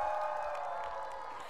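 A school audience cheers and shouts together at a Malay cultural performance, a dense steady roar of voices that swells and slowly fades, with no single voice standing out.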